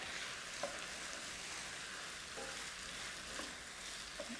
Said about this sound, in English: Stir quickly to get the flavours up from the bottom of the pan and any solid bits that are stuck.